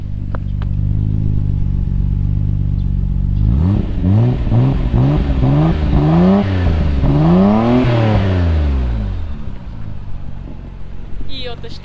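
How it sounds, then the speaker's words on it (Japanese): A Nissan Skyline GT-R BNR32 fitted with a Kakimoto muffler revs repeatedly from idle, with sharp rising and falling exhaust blips in quick succession, loud and close, before settling back to a steady idle. "はい、じゃあマフラーの音、はい、聞いてください。 So let's check the exhaust."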